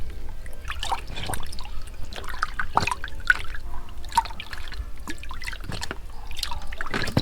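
Liquid bio-fermented fertilizer is stirred into about twenty litres of water for organic vegetables, making a continuous close sloshing and trickling with scattered drips and splashes.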